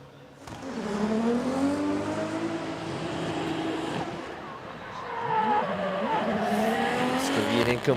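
Toyota GR Yaris drift car at a Formula Drift Japan qualifying run at Okayama International Circuit, engine sputtering with a faulty note amid loud tire squeal and skidding that swells and fades, with a commentator's voice partly over it.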